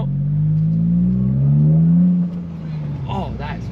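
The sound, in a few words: Toyota GR Corolla with AWE exhaust revving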